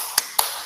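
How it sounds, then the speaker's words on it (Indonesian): Two sharp claps about a fifth of a second apart in a classroom, part of a group 'tepuk good job' clapping chant, close and crisp against a quiet room hiss. "kita akan kasih dia tepuk good job"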